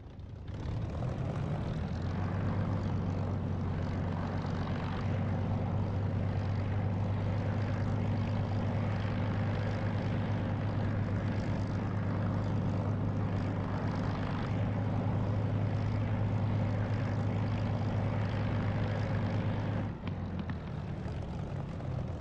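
Aircraft engine running in the DCS flight simulator game, a continuous loud propeller drone with a steady low hum that holds for about twenty seconds before dropping off at the end.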